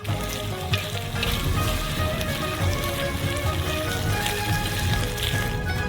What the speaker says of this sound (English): Transfer them into the wok. And mix it for a final time.